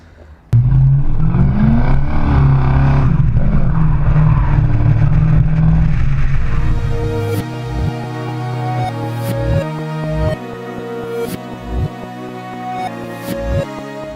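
A Mercedes 560 SEC AMG with a 6-liter engine roars loudly under hard acceleration, then settles into a steadier drone with repeated shifts and revving surges, close and alone.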